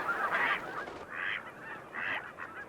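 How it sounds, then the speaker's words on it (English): A large flock of geese resting at a staging marsh honks in repeated nasal calls at a moderate distance, rising in three waves over a steady background of bird chatter. "Here, thousands of birds stop to rest and feed."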